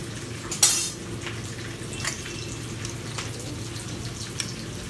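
Bánh khọt pancakes frying in a pan in a restaurant kitchen, a continuous soft sizzle with a sharp metal clink near the start and light utensil taps afterward.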